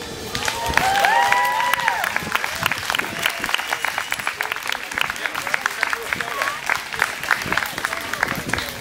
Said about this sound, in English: Another round of applause for all the bands.